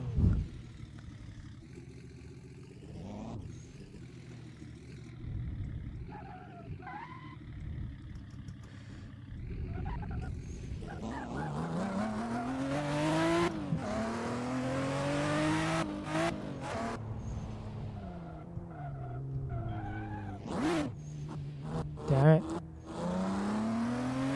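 A Toyota Supra in the racing game Assetto Corsa revs and accelerates hard, its engine pitch rising and falling through gear changes, with bursts of tire squeal, while a person talks over it.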